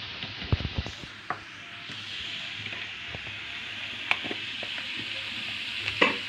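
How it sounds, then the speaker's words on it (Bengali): Fish frying in a pan sizzles steadily with a continuous hiss, broken by occasional sharp pops and spatters and a few louder scrapes as it is stirred. "এখন মাছ ভাজবো দেখো"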